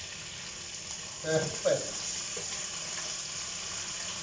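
Seafood mix browning with garlic in a frying pan for fideuà, a steady soft sizzle running throughout with two brief stirring bumps near the start and a short spoken word over it.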